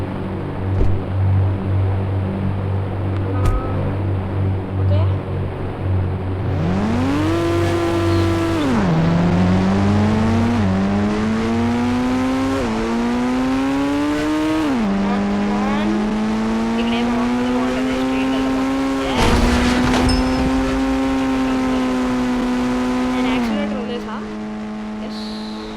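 A game car in Indian Bike Driving 3D revs up and shifts through its gears, the engine whine climbing and stepping back down repeatedly. A voice speaks over the steady synthetic motor drone.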